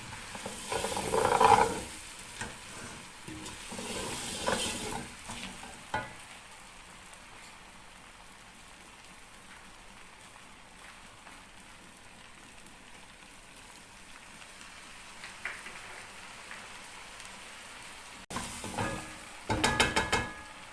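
Beef bong (beef shank) frying in a pan gives a steady soft sizzle with bursts of stirring near the start and end and a quieter hiss through the middle, with no voices.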